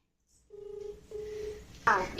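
A telephone dialing a call, a short run of electronic keypad tones in quick succession followed by a burst of louder line noise at the end.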